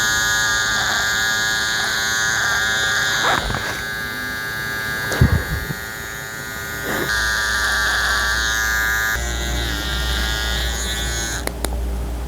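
An electric razor buzzes with a steady, close mechanical hum while shaving, holding one continuous drone with small shifts in pitch as it moves across the skin.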